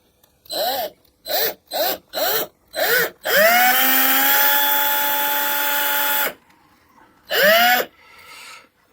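A power drill whirs steadily for about three seconds after several short bursts, then stops; another brief burst follows, close and loud.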